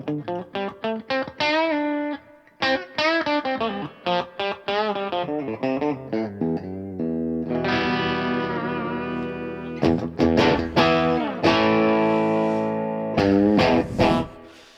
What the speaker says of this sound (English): you can hear the reverb. The reverb sounds pretty lush.